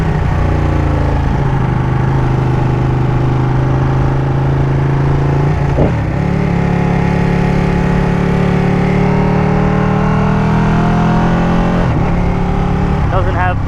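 A 2018 Ducati Panigale 959 Corse sport motorcycle engine hums steadily and revs up and down through the gears, with a deep exhaust note running the whole time and some wind noise.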